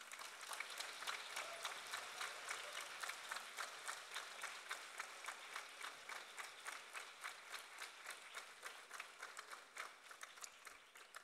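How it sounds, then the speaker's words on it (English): Faint applause from a school graduation ceremony audience keeps going, settling into rhythmic, evenly spaced clapping that carries on steadily and thins slightly near the end. "give each and everyone whom we associated with and took care of us every step of the way a big round of applause"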